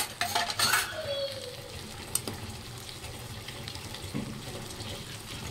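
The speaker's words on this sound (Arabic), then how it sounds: "نقلب الرز كده." Rice gets stirred in a cooking pot, with a spoon scraping and clinking against the metal over faint simmering and a brief splash of running water near the start.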